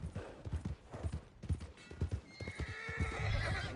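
Horse hooves clip-clop in steady rhythm in Red Dead Redemption 2, near and moderately loud, with a horse whinny and background game ambience rising toward the end.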